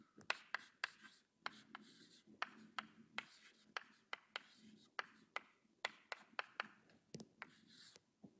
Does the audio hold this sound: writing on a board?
yes